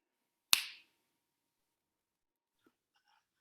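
A single sharp finger snap, close and crisp, rings out once and then gives way to near silence with only a faint breathy trace afterward.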